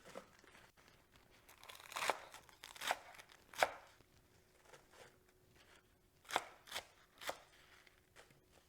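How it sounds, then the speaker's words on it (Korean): A knife chops romaine lettuce on a cutting board with scattered crisp cuts that gather into two bursts of strokes, close and moderately loud with no talk. "로메인 상추를 좀 썰어 보도록 할게요"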